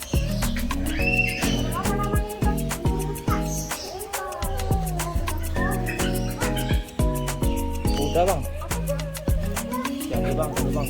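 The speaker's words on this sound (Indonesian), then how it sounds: "Ada kuda yuk, ada kuda." At a bird park in Palembang, a horse gives repeated loud whinnying neighs in a steady rhythmic pattern, close by and filling the scene.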